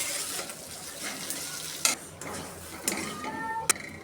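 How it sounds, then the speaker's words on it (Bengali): Pumpkin peel bharta frying in a pan, a continuous sizzle broken by a few sharp scraping stirs of a spatula against the pan. "ভাজা ভাজা করে নেব।"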